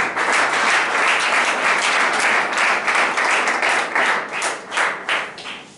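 A church congregation bursts into applause, a dense, loud patter of many hands clapping together that swells and then thins into a few scattered claps near the end.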